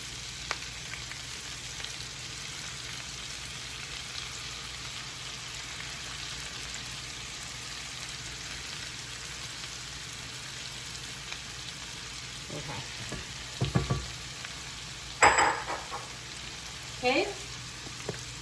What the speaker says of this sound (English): Now I'm gonna go ahead and add in my spinach.